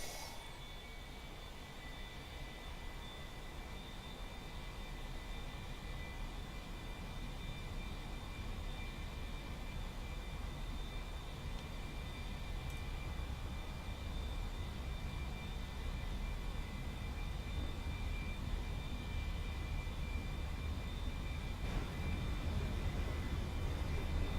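An A-4E Skyhound jet throttled up to full power on the runway in the DCS flight simulator: a steady broadband engine roar with a thin high whine, slowly building in loudness over about twenty seconds, with no talking.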